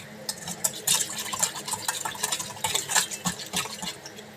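A milkshake being stirred and mixed, with irregular clinks and liquid swishing against the container in fairly close, busy bursts and no talking.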